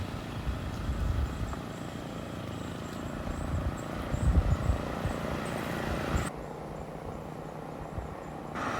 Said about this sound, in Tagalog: Siyempre hindi kasi may motor na maingay.